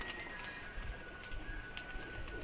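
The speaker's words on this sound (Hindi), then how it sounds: "एक कबूतर आया है" A pigeon coos softly amid faint outdoor background noise, with a thin steady whine running underneath.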